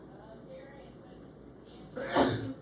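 A single sharp sneeze bursts out near the end, close and fairly loud, after a stretch of quiet room noise in a college physiology lecture.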